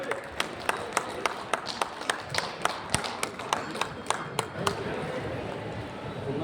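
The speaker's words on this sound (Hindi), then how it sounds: "माननीय मंत्री जी के लिए जोरदार तालियां होनी चाहिए आप सबकी" An audience claps for a minister at a trade fair opening, sharp individual hand claps spaced irregularly at first, then blending into a denser wash of applause, with talk underneath.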